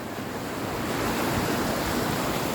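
Sea waves at a beach give a steady, full wash of surf and wind, constant and fairly loud with no distinct breaks and no voices.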